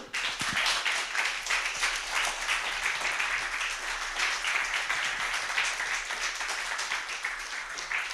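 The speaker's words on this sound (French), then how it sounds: "Merci beaucoup, Manon. Vous pouvez applaudir?" Audience applause at a French motion-design meetup held in a school, thanking speaker Manon Louart; steady, dense clapping fills the whole stretch with no voices over it.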